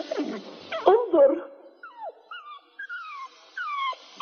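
A small dog whining in an animated cartoon, several high, drawn-out plaintive whimpers following a burst of talking.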